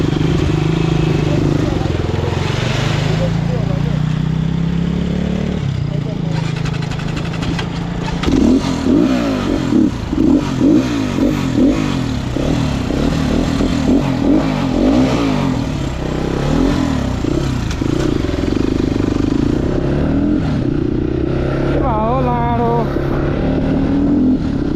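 A motorcycle engine labors and revs unevenly up close, rising and sputtering as it loses power. Voices talk over the engine throughout.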